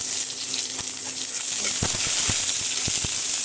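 Onion going into hot oil with bay leaves already in the pan, a steady bright sizzle with a few sharp pops and crackles near the end, close and alone.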